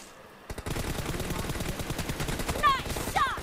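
Rapid gunfire from a sniper-equipped firefight in the mobile battle royale game PUBG Mobile, a burst of repeated sharp shots after a quiet start, with a brief whooshing effect near the end.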